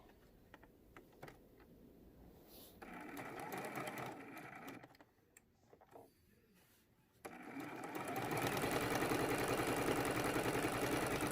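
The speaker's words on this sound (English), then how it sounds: "We'll sew one more with you, and then I'll finish up this binding." A sewing machine runs while stitching quilt binding, starting with scattered clicks, then a steady mechanical whirr, a pause, and a longer, louder sustained run close by.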